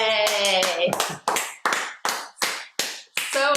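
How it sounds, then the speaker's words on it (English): Online meeting participants clap after unmuting, a few separate hand claps arriving through laptop microphones, clipped and uneven with gaps between them, and tonal voices overlapping the opening. "We all unmute ourselves and give him a round of applause."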